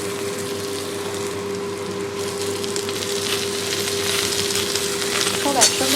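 Onion, potato, eggplant and pumpkin frying together in a pan, giving a steady, even sizzle that continues close and unbroken throughout, with a faint clink near the end.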